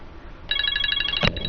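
A phone begins ringing partway through with a steady electronic ringtone of rapid repeating trills, fairly close and clear, with one brief louder thump near the end and no talking.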